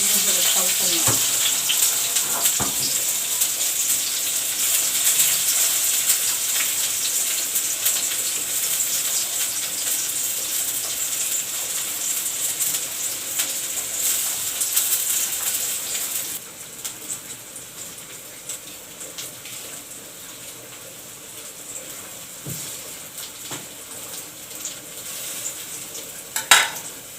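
Onions sizzle and fry in ghee in a pot on a home kitchen stove, a steady bright crackling hiss with occasional stirring clinks, easing slightly in intensity partway through.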